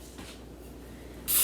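Cooking spray is sprayed onto a plate while making microwave potato chips, a sudden loud close hiss bursting in at the very end after quiet room tone.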